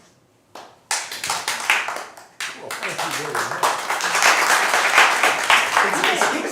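Audience at an improv theatre Theatresports match starts clapping with a few scattered claps, then swells into full, steady applause while someone speaks over it.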